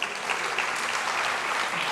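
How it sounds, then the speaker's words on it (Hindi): An audience at a social leaders' conference for International Yoga Day breaks into continuous applause, a loud, even roar of many hands clapping throughout. "बजाएंगे ना तालियां?"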